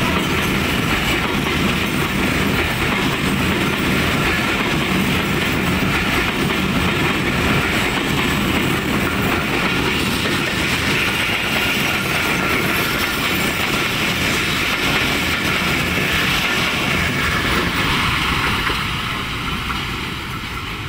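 An intercity train hauled by a new locomotive rumbles past at speed, its loud steady roar of wheels and carriages continuing for about twenty seconds before easing slightly at the end, with no voices.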